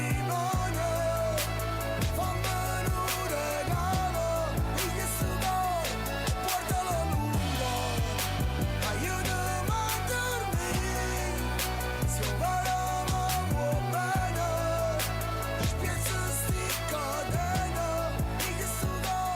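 Rap song written by inmates of the Airola juvenile prison in Italy, made in a rap workshop: a dense, loud beat with steady bass and a rhythmic vocal line running throughout, with no pauses.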